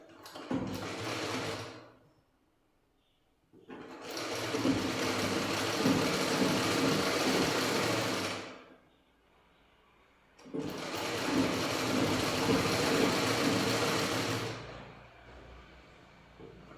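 A sewing machine stitches down a folded strip of blouse fabric in three long runs of rapid, even mechanical whirring, each several seconds long, with short quiet pauses between them.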